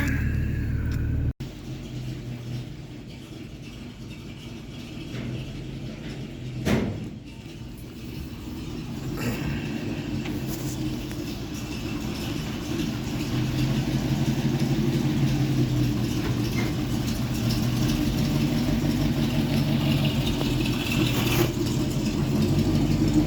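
A car engine, started with a good battery, runs steadily at a low, even idle, a constant mid-close rumble with a brief knock early on and the drone swelling slightly toward the end.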